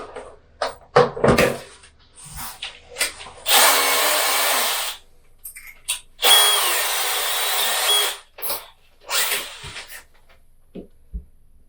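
A power drill bores into a wall during a half bath remodel to fit anchors for hanging a picture: two loud sustained whirring bursts of a couple of seconds each, separated by clunks and handling knocks.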